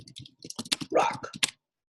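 Quick bursts of clicking keys on a computer keyboard, close and busy for about a second and a half before stopping.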